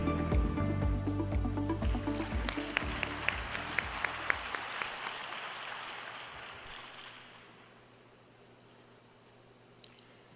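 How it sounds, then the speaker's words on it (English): An audience at the opening ceremony of the World Forestry Congress applauds to welcome the president, dense clapping with music-like tones that gradually fades away into near silence after about seven seconds. "Please welcome Mr. President with a warm round of applause."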